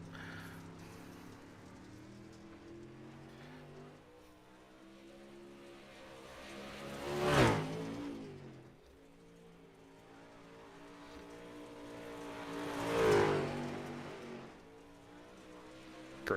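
A modified race car on a dirt speedway, part of a modified touring series at USA International Speedway, roars past twice, each engine surge swelling loud then fading back into a lower running drone.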